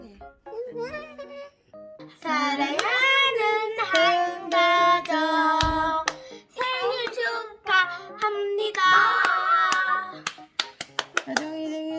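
Children and adults clap at a family birthday party, the claps mixed in with voices singing and talking, with sharper clusters of claps toward the end.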